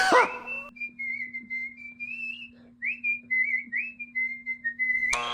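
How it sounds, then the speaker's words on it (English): Someone whistles a wavering, sliding melody in short phrases, close and clear over a faint steady hum, with a rustle at the start and end. "can whistle really, really good"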